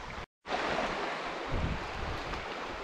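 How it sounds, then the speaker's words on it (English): Rushing river water in spate at a wild Scottish river crossing, a dense broadband roar of flowing water mixed with wind buffeting the microphone, continuous and close after a brief dropout at the start. "we're going for it. The river crossing is on."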